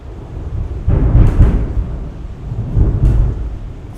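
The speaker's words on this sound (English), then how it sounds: "That was very loud thunder." Loud, close thunder from a nearby storm rumbles low and heavy in two swelling rolls over a steady background wash, with no voices.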